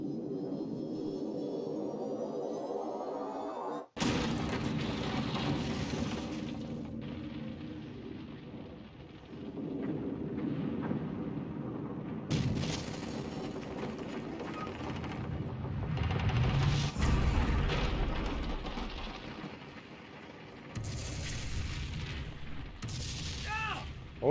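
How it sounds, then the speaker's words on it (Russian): An oil rig blowing up in the video game Alan Wake's American Nightmare, heard as heavy rumbling booms and crashes that swell and recede across the stretch, loud and dense, with someone talking over parts of it. "Нефтяную вышку взорвал."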